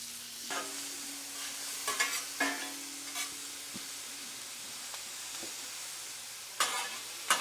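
Lots of onions frying in a pan while being cooked down for hot ham and cheese sandwiches, a soft steady sizzle broken by occasional utensil scrapes and clatters.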